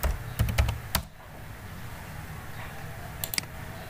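A few quick keystrokes on a computer keyboard while a word is typed into a graph label, crisp close clicks clustered at the start, then quiet room tone with a couple of final taps.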